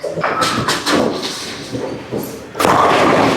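A bowling ball, a Tundra Fire, rumbles down the lane and crashes into the pins. Heavy close thuds and a rolling rumble give way to a loud, sustained clatter at the end.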